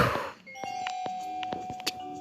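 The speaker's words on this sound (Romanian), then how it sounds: "Cine sună la sonerie?" A doorbell chime rings in a Roblox SpongeBob obby video game, steady electronic tones ringing out alongside soft game sounds.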